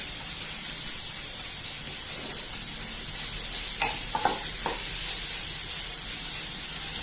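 Onions and tomatoes sizzle in a pan with a steady, close, hissing fry, and a few sharp spatters and clinks from stirring come in the middle, with no talking.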